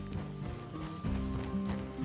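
Horses clip-clop and whinny close by as riders arrive at a house in a Western setting, hooves thudding in a steady rhythm with a neigh rising over them.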